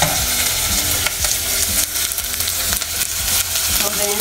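Onion sautés in a pan for a broccoli soup, crackling and sizzling loudly while a utensil stirs it, giving repeated scraping knocks over the steady fry with no voice.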